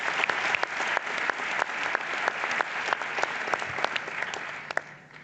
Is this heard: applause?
yes